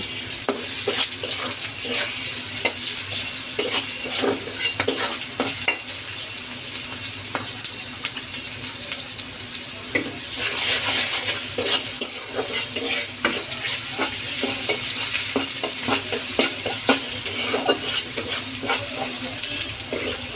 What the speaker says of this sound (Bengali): আর লাউ শাক আমরা এভাবে ভাজি করে থাকি